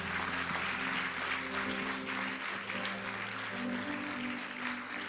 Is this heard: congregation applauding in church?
yes